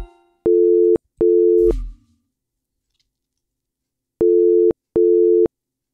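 A phone busy tone in the Simulacra video game beeps four times: two steady tones, a pause, then two more, with a brief thump between the pairs.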